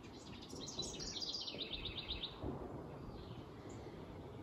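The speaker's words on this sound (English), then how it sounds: "You like those little birds, buddy?" Small birds chirp outdoors in a quick run of bright, high tweets over a steady wash of ambient noise, fairly faint and distant, with no talking.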